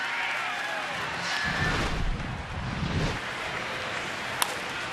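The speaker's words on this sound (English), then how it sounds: "We'll get some crowd reaction here." A broad, steady roar from a baseball stadium crowd at a New York Mets at Washington Nationals game in 2013, swelling slightly mid-clip, with a single sharp crack near the end.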